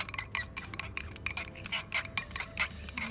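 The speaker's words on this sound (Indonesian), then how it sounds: "Kita aduk." Salt being stirred into distilled water for Ringer's solution, a rapid run of light clinks and taps of a spoon against a glass container, close and irregular, with no talk.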